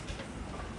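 A Class 701 Arterio train passing at Clapham Junction makes a faint, continuous rumble with a low mechanical roar and no clear clicks.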